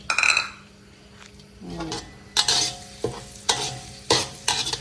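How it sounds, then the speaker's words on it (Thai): Minced garlic hits hot oil in a pan and is stir-fried for a crab curry, bursts of crackling sizzle alternating with loud metallic scrapes and clinks of a spatula against the pan. "ใส่กระเทียมสับนะคะใส่ไปเลย"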